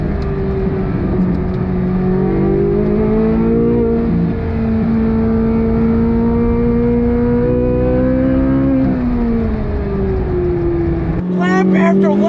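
A 2023 Chevrolet Corvette Z06 laps a race track, its engine a loud sustained roar heard close up, the pitch rising and falling with gear changes and throttle.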